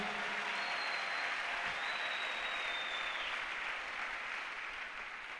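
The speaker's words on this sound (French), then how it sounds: "Acclamons la parole de Dieu." A church congregation claps together in sustained, steady applause that fills the space evenly and fades slightly toward the end, with no voices over it.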